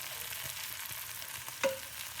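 Cold day-old rice and pork belly fry in a hot pan for Filipino fried rice, giving a steady close sizzle with soft stirring scrapes and one brief sharp clank near the end; no one speaks.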